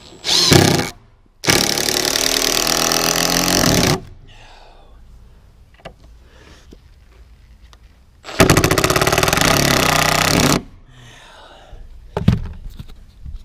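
Ratcheting power driver sinking fasteners into wood boards for a hay wagon, loud sustained whirring bursts of a few seconds each, separated by quieter gaps with faint handling noises.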